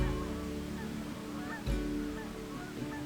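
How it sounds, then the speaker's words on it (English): Geese honk faintly in the distance, a few scattered calls over a low steady background hum. "There seems to be quite a lot more geese activity out there."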